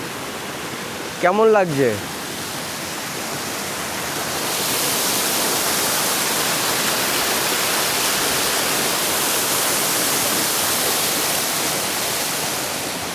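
A waterfall roars as a broad, steady rush of falling water that grows louder and fuller after the first few seconds. A short spoken question comes near the start.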